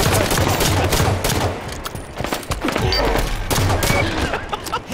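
Rapid bursts of video game gunfire crackle in dense, continuous volleys through a multiplayer capture-the-flag match, loud and sustained throughout, with voices talking over the shooting.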